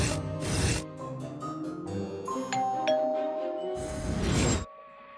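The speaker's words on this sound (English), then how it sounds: "You're going to hear the doorbell ring." A doorbell chimes on Halloween trick-or-treat night, its sustained ding-dong tones ringing out over a steady background and then fading.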